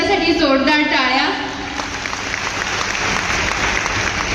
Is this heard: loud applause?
yes